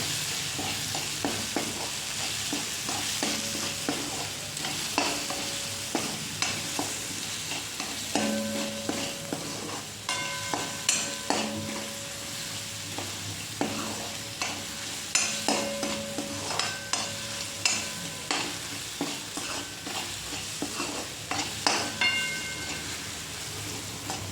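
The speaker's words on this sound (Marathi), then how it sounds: "त्याच्यानंतर चवीनुसार मीठ. चांगलं परतून घ्यायचं." Salted chickpea (chhole) dry curry sautéed in a pan, a soft constant sizzle broken by regular scraping stir strokes that repeat every second or so, close and moderately loud.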